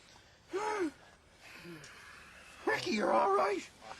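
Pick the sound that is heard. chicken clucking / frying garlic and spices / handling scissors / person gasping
person gasping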